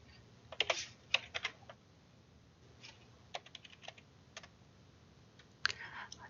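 Typing a client ID on a computer keyboard, quiet scattered clusters of sharp key clicks with pauses between, close and faint against a low background hum.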